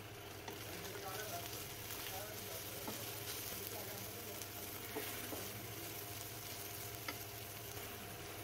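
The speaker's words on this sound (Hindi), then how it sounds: "इसमें कट की हुई बंद गोभी ऐड करेंगे और मिक्स कर लेंगे" Chopped cabbage is stirred and fried in a pan over medium heat for chicken macaroni, giving a soft, continuous sizzle with faint scraping stirs, quiet and close.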